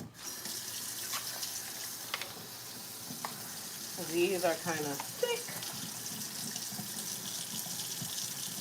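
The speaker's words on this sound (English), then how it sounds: "Let me see if I can get some hot water here." Hot water runs steadily from a tap into a sink, a constant splashing hiss as a person speaks briefly over it midway.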